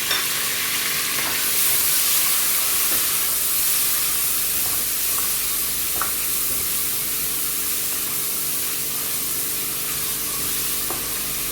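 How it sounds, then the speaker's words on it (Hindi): Garlic, ginger, tomato and onion sizzle steadily in hot oil in a pressure cooker, a continuous crackling fry close by, with occasional stirring taps. "ऑयल हमने कुकर में डाल दिया है। ये देखिए लहसुन, अदरक, टमाटर, प्याज सब कुछ इकट्ठा ही जाएगा।"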